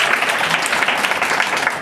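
An audience claps for a speaker at a Korean-language presentation event, a steady, fairly loud burst of applause filling the room for a couple of seconds.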